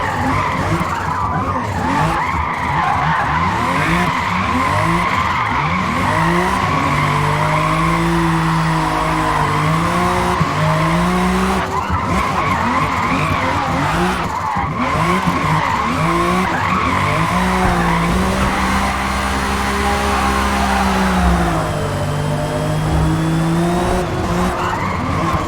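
A car drifts in the Forza Motorsport video game, tires squealing continuously over a loud revving engine whose pitch rises and falls through the slides, sustained and close with no talk.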